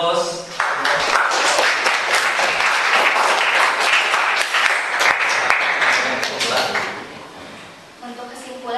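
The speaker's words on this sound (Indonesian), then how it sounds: "Baik, kita berikan aplaus." Applause from an audience after a religious studies lesson, a sustained, loud burst of many hands clapping that swells quickly and tapers off, with a speaking voice before and after.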